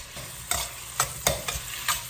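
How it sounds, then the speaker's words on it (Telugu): Onions sizzle in a pan with a steady frying hiss, broken by five or six sharp scraping stirs at roughly half-second intervals, close and fairly loud, with no voices. "కొంచెం వేగుతున్నాయి ఉల్లిపాయలు కొంచెం వేగడం మొదలుపెట్టాయి"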